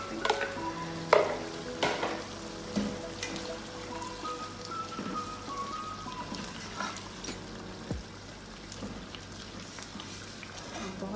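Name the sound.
chickpeas being stirred and cooked in a pan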